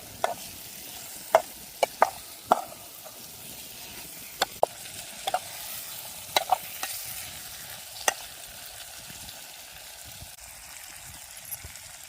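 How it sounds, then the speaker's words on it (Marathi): Wam eel and shingti fish fry in a pot outdoors by a river: a quiet, continuous sizzle runs throughout, punctuated by repeated sharp metallic clicks and taps from turning the fish, with no talking. "आता मासे घेते टाकून. फ्राय बनवते."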